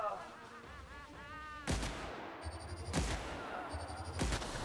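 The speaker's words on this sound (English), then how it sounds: "that's the test subject with the fucking machine gun" In the video game The Outer Worlds, several loud bursts of machine gun fire crack out in short volleys, about three sharp broadband blasts within a few seconds, with gameplay noise between them.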